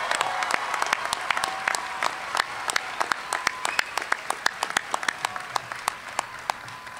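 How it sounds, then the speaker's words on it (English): Applause for bachelor degree students at a university commencement ceremony, with distinct individual claps standing out sharply over a thinner wash of clapping that gradually tapers toward the end. "Let's have one more round of applause for our bachelor degree students."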